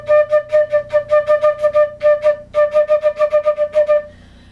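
Flute double tonguing played unevenly, rapid bursts of short tongued notes on one pitch in two uneven runs separated by a brief gap, close and clear with lumpy, inconsistent articulation.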